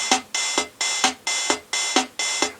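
A bright electronic disco drum pattern repeats in a steady, mechanical groove, with crisp synthetic hi-hats and thumps from the small speaker of a Yamaha PortaSound PS-400 keyboard.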